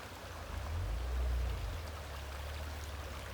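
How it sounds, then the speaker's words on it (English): Holden Beck, a small stream with a reasonable flow, runs steadily outdoors, a soft continuous wash of water with a low rumble that swells briefly, no voices over it. "This is Holden Beck. This stream here."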